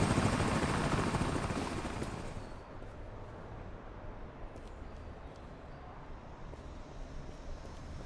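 The continuous rotor and engine roar of a helicopter chasing the player in the video game American Arcadia is loud and broadband at first, then eases to a steadier, slightly quieter whir, with faint wind-like noise.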